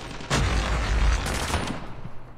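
Rapid sustained automatic gunfire from a Chopper LMG in Call of Duty Mobile, a dense loud burst of shots with a brief break partway through.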